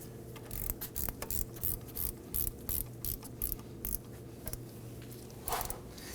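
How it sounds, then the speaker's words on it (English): GearWrench ratchet threading a starter bolt on a 2008-2011 Ford Focus 2.0L, a rapid run of close, crisp ratchet clicks in short bursts with brief pauses between strokes. "I'm going to throw my gear wrench on this here."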